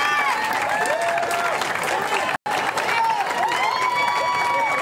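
Hundreds of people cheer and applaud for a Harris Teeter employee, a loud, dense crowd roar with whoops and shouts filling the space, broken by a very brief dropout midway.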